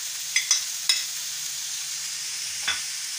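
An omelette mixture with green chili cooks in a pan, giving a soft, steady sizzle broken by a few short clinks of stirring.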